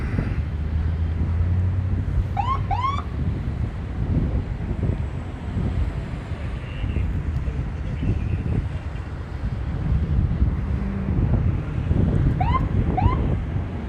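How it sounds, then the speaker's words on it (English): Steady wind gusting outdoors beside a riverbed brush fire in Oildale, a broad continuous rushing roar with low rumble, and two brief bird chirps rising above it. "the wind is picking up out here, and it's definitely helping to spread it"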